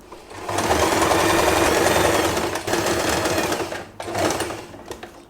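A sewing machine stitches folded fabric for a puffy hair bow, running in a close, steady whir for a few seconds, pausing briefly, then resuming in a shorter burst.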